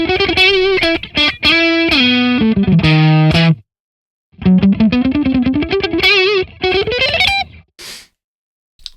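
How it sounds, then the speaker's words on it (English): Kiesel electric guitar played through a PolyChrome DSP HyperRig amp, picked hard into crunchy breakup then lightly for cleaner tones, with sustained bends, quick picked runs and short pauses between phrases. "I can hear the amp when I pick hard breaking up more and then going much cleaner when I'm playing lightly."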